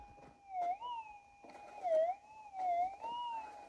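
A metal detector sweeping close to the ground over a pure gold nugget gives a wavering electronic tone that rises and dips in pitch with each pass, several warbling swells over a faint background at moderate loudness.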